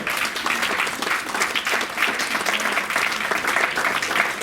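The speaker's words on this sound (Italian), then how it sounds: "Gli sponsor di Miss Blue Mare, un grande applauso" At a Miss Blumare press conference aboard the cruise ship MSC Magnifica, an audience gives the sponsors steady, dense applause, a full wash of many hands clapping without pause.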